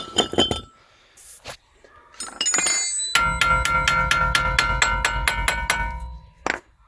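Metal brake pads and a rotor from a Toyota Prius being handled, producing sharp close clinks and taps, a couple of scattered knocks followed by a rapid ringing run of metallic strikes, then one last clink.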